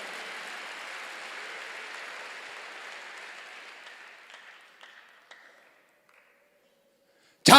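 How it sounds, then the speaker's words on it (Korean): A church congregation applauds for several seconds, the clapping thinning into scattered last claps and fading to silence before a voice cuts in at the very end. "박수로 하죠."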